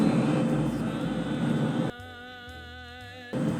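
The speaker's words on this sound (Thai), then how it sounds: "ลอง เปิดเสียงเครื่องบินดูครับ ว่าตัดได้มากน้อยขนาดไหน" Recorded airplane cabin noise played back to test the noise cancelling of Soundcore Liberty 4 Pro earbuds: a loud, steady broadband roar for about two seconds that cuts off abruptly, leaving quieter tonal sound.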